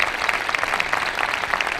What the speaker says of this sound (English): Big round of applause to Ray.